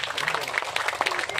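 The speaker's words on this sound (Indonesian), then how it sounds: "Nah, tepuk tangan untuk itu semua." A ceremony audience claps together for a moment, a dense burst of overlapping hand claps heard at a moderate distance, with a voice speaking over it.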